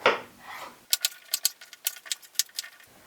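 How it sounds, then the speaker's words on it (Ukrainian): A knife chops zucchini into pieces on a board, making about ten crisp, evenly spaced taps close by. A soft rustle comes before the cutting starts. "Ріжемо кабачата такими кусочками, щоб це влізло в м'ясорубку."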